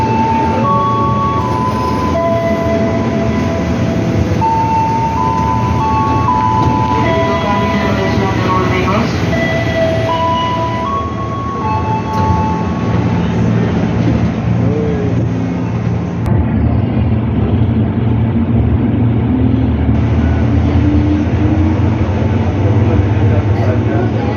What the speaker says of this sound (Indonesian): Keretanya udah datang ya teman-teman.